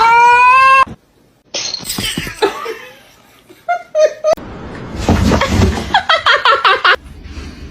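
A cat gives one clear, drawn-out meow up close, followed by people laughing and chuckling in short bursts.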